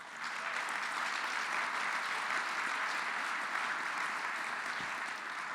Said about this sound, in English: Let's give Chairman Hogan a big round of applause.